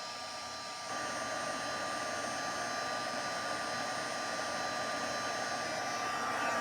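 A heat embossing gun blows steadily on embossing powder on a card, a constant moderate whirring drone that steps up slightly in loudness after the first second and holds unchanged throughout.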